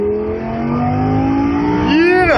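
BMW M3 accelerating hard in a race against a Lamborghini, its engine note climbing steadily and loud up close before a sharp rising sweep at the end as it revs through the gear.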